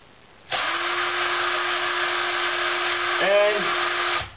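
A drill spins the half-inch back shaft of a Shinn Fu treadmill DC motor, giving a steady high electric whine that holds level for several seconds, then dips and recovers briefly before stopping.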